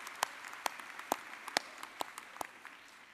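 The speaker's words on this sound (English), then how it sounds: "Please join me in a round of applause for the stage party and faculty." A commencement audience at the 2025 Texas A&M University at Qatar ceremony claps for the stage party and faculty: a handful of sharp, scattered hand claps, fairly faint and spaced apart, tapering off toward the end.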